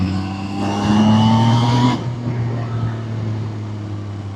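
A 2025 Zontes 703 RR sport motorcycle on the road, its engine droning with a rising tone that drops off sharply about halfway, leaving a lower steady hum and wind rush.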